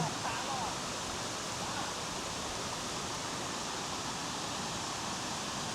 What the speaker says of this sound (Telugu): ఆ పైనుంచి అక్కడి నుంచి వాటర్ వస్తున్నాయి ఇక్కడ వచ్చి జాయిన్ అవుతున్నాయి